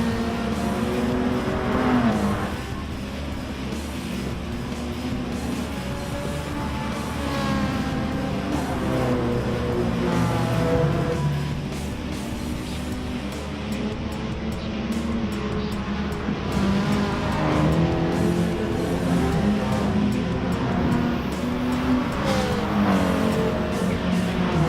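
Race car engines in the Gran Turismo Sport racing game roar continuously, rising and falling through gear changes and repeated acceleration sweeps as cars pass and overtake, loud and close throughout.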